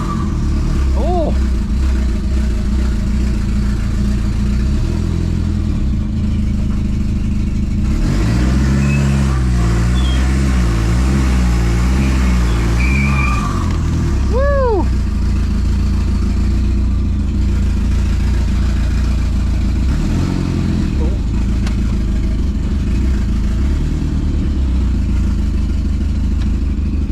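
A Chrysler PT Cruiser sitting on flat tires idles roughly, then revs up in a long burst as it tries to spin its wheels, with mechanical clatter and people talking nearby throughout.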